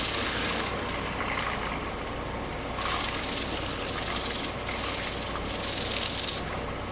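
Steady abrasive rubbing of sandpaper on a walnut bowl on a lathe, coming in several longer passes with brief lighter stretches between them, close and fairly loud.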